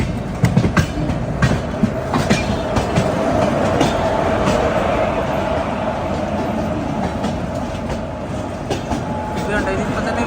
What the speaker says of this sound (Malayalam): സമയം ഇപ്പം 4:20 കർജാത്ത് റെയിൽവേ സ്റ്റേഷനിലേക്ക് നമ്മുടെ വണ്ടി എത്തിക്കൊണ്ടിരിക്കുകയാണ്